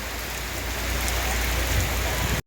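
Heavy rain pours steadily in Koodankulam, a dense, loud, continuous hiss with no voices, cutting off abruptly at the end.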